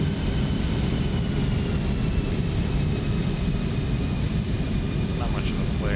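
An X-Craft ERJ-145XR jet lands in the X-Plane 11 flight simulator game, giving a steady, loud, unbroken engine roar and rushing noise throughout.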